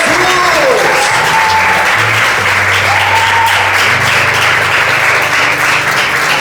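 A church congregation gives loud, sustained applause for Jesus, dense clapping filling the room for several seconds with a few voices and a low tone beneath.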